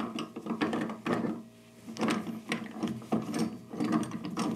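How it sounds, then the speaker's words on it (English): A clamp on a workbench is fitted and tightened with repeated clicking, ratcheting and rubbing sounds in irregular bursts, close and fairly quiet. "Let's put the clamp on."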